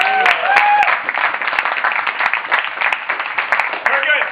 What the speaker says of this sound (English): Now, one more big round of applause for our classmates.